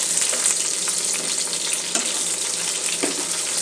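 Tilapia fish frying in oil in a pan, browned on both sides, giving a steady close sizzle with occasional crackles and pops throughout.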